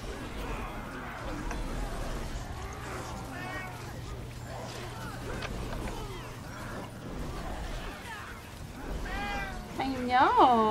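A household cat, Mr. Jag, meows on and off close to the listener, ending in a loud, high, wavering cry, as voices keep talking over a constant low hum.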